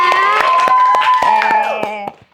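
Classroom students clap for a classmate in a quick, regular rhythm of crisp hand claps while young voices chant along loudly. The claps and chanting fade out at the end.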